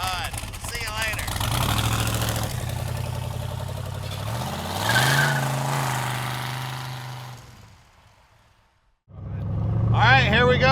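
A 1966 Chevrolet Corvette with a 502 big-block and four-speed automatic drives off. The engine rumbles and revs through rising gear pulls, fades away to near silence, then roars back loud and close.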